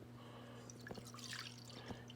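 Vinegar pours into a one-cup measuring cup, a soft trickling liquid sound with a few drips and splashes over a steady low electrical hum.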